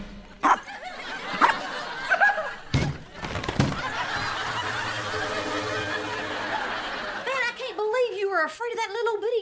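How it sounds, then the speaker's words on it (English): A small dog in a TV sitcom lets out a few sharp yips amid background noise, followed by whiny, whimpering vocal sounds near the end. "Afraid of that little bitty dog."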